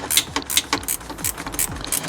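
A socket wrench ratchets rhythmically while loosening a bolt during an oil change on a 6th gen Camaro V6 with a Procharger, a quick run of close clicking strokes roughly every third of a second.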